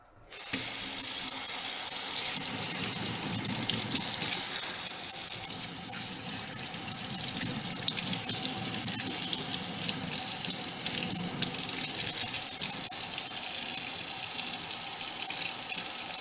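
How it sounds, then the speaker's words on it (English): Warm tap water runs steadily over bracelets in a sink, a continuous broadband rush with faint clinks of jewelry and small shifts as the pieces are handled under the stream. "we're gonna take our bracelets and then wash them in warm water."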